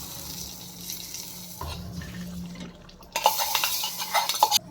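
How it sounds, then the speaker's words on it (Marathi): Water poured into a cooking pan while making paneer tikka masala with spices and ground coconut, cumin and coriander paste, a brief splashing, sizzling rush rising near the end over faint kitchen clatter. "आणि थोडं पाणी सोडते मी"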